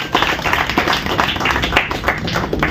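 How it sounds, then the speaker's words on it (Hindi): An audience at a Lions Club Noida ceremony bursts into dense, steady clapping, close and lively, for an award presented to the club's new president. "सदन से चाहूंगा कि एक बार जोरदार तालियां।"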